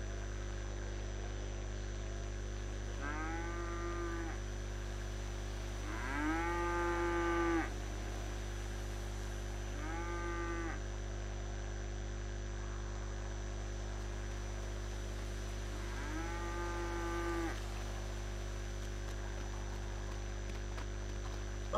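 A cow moos while being milked in a video game, giving four drawn-out calls spaced several seconds apart over a steady electrical hum.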